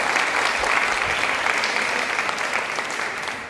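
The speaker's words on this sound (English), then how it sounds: "Give her a round of applause" Audience applause at a school World United Nations Day event, a steady, dense wash of clapping that holds for several seconds and eases slightly at the end, with no talking.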